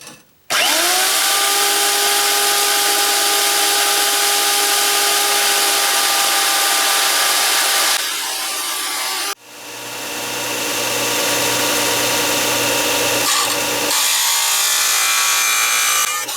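A power tool cuts a sprocket free to serve as a spacer for a Peerless differential on a go-kart. A loud whining motor spins up and runs steadily, stops abruptly, then a second rough grinding cut builds in and continues.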